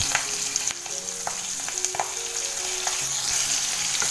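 Green chillies fry in oil with turmeric and salt in a single pan, a steady close sizzle broken by scattered pops and the scrape of stirring, with no voices.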